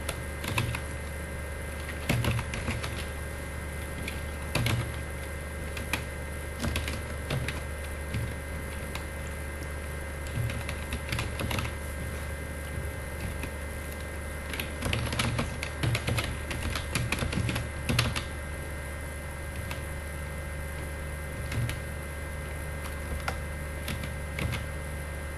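Keys tap steadily on a computer keyboard while text is entered in a spreadsheet, a continuous run of soft clicks over a constant background hum, with no speech.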